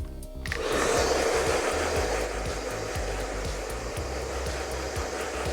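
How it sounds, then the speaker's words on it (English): A handheld blow dryer blows a woman's hair dry to add volume, giving a loud, steady whooshing roar that starts abruptly and runs continuously, with faint rhythmic ticking underneath. "we're gonna take the blow dryer"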